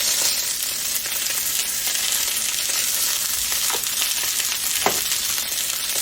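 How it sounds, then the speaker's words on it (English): Pork chops seasoned with pepper sizzle steadily in a pan, a continuous bright crackle with occasional sharper pops and light clinks, close and alone without talk. "we're just going to fry these up"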